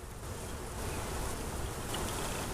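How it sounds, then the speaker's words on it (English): Honeybees buzzing around an open hive during an inspection, a dense, steady outdoor hum of many insects close to the microphone, loud and continuous with no speech. "Can you see that bee right there? Look at all the pollen on his legs."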